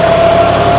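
A John Deere 5210 tractor engine runs steadily at a constant speed while the tractor pulls a cultivator, a loud, close, even hum with a steady tone and no voices.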